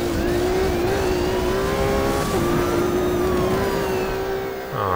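A Ferrari engine in the racing game Need for Speed Rivals drones at a steady high pitch throughout, holding nearly constant revs with a brief dip midway, loud and alone without talk.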